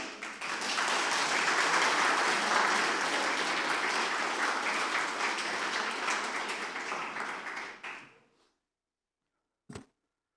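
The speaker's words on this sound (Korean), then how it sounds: "오실 때 우리 큰 박수로 환영해 주시기 바랍니다" A church congregation gives sustained, dense applause to welcome a guest, the international school principal, loud for about eight seconds before fading out, then a single brief tap after the silence.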